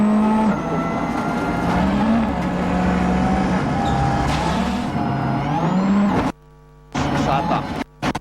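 Onboard a rally car driving a gravel stage at Rally Finland 2002, engine loud and close, revving up and down through gear changes, briefly cutting out near the end, with voices talking over it.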